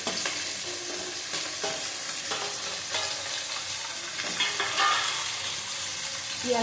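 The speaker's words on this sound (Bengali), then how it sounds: "দেখো, আমার সবজিগুলি ভাজা হয়ে গেছে। বেগুন দিয়ে দিলাম।" Mixed vegetables with eggplant frying in a wok give a constant close sizzle, broken by repeated scraping and clicking as they are stirred.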